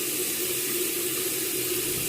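Water runs steadily from a tap while a face mask is rinsed off, a close, continuous hiss with no pauses for about two seconds.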